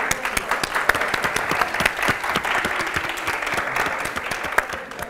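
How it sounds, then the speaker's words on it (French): An audience claps for the jury members at a live comedy event, a sustained round of brisk, crowded applause that tapers slightly toward the end. "S'il vous plaît, on applaudit pour les membres du jury."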